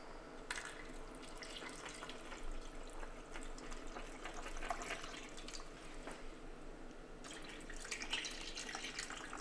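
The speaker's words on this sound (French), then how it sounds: "On vient couvrir d'eau." Water from a tap runs steadily into a pot to cover pieces of oxtail, a continuous close splashing pour that swells and eases slightly over several seconds.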